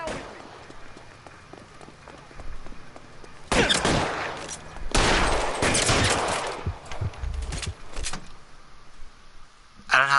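Loud gunshots ring out in the video game LA Noire, several sharp blasts spread across the stretch with game action rumbling between them.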